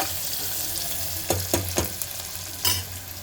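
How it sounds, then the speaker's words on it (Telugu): Onion sizzles in a hot pan while chicken curry is cooked, a steady close frying hiss broken by a few sharp bursts of sizzle as it is stirred, with no voices. "ఆనియన్ కొంచెం వేస్తున్నాను"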